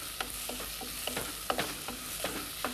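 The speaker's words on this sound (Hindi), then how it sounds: "इसके बाद इसमें डालें प्याज बारीक कटा हुआ, करीब 1 कप। इस प्याज को हमने पकाना है।" Finely chopped onion and garlic frying in a pan make a steady hiss, with regular soft stirring scrapes every half second or so and no voices.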